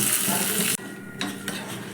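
Lentils and curry leaves tempering in a pan are stirred with a utensil, a bright frying sizzle that cuts off abruptly, followed by a few close scraping strokes against the pan.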